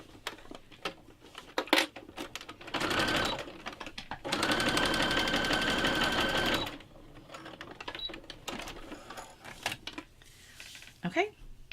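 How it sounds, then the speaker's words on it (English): A sewing machine stitches a swim strap onto a swimsuit in two sustained runs of rapid mechanical whirring, with a short pause between and quieter handling noises around it. "and we're going to sew it"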